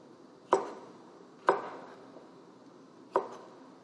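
Three sharp, separate knife chops through cucumber on a cutting board, cutting it into 5 mm strips in a Korean cooking lesson, spaced about a second apart and fairly close, with a quiet room behind and no talk.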